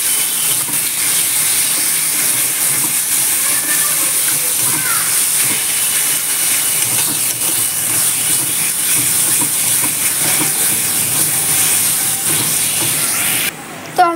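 Ginger-garlic paste and tomato sauté in a pan for a Bengali curry, giving a loud, steady broadband sizzling hiss that runs unbroken for about thirteen seconds.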